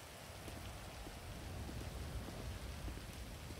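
Steady rain pours in the GTA V game world, a dense, even hiss of drops striking surfaces with no pauses and no voices over it.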